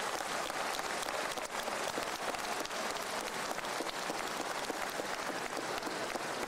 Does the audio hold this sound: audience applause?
yes